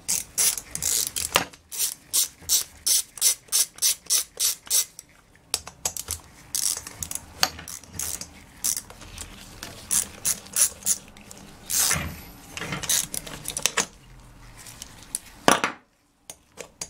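A ratchet wrench backs the 5/16 muffler bolts out of a Craftsman chainsaw, with fast rhythmic clicking in steady bursts, loud and close, pausing between strokes, then clinks of small parts being handled.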